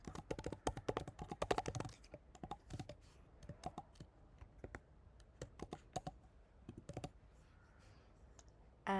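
Keys clatter on a computer keyboard as an application name is typed, a quick burst of close clicks at first, then sparser pauses and scattered keystrokes, quiet and without speech.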